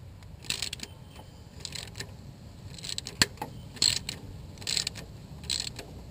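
A ratchet tightens a bolt on the alternator of a 2005 PT Cruiser, with quick bursts of clicking pawl strokes repeating several times, close and fairly quiet in a garage.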